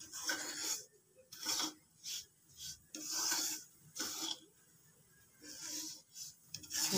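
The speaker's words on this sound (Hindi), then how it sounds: "ये देखिए हल्की हल्की भूनना शुरू हो गई है ना।" Semolina (suji) is dry-roasted and stirred in a pan for laddoos, giving repeated scraping, rasping strokes of a spoon against the pan in uneven bursts, close and fairly loud, with no voices.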